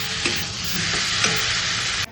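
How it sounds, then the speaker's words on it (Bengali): Green peas being sautéed in spice masala in a kadai for a cauliflower curry, a loud steady frying hiss with a few soft spatula scrapes and stirs, ending abruptly. "কড়াইশুঁটিটা দিয়েও খুব সুন্দর করে একটু কষিয়ে নেব"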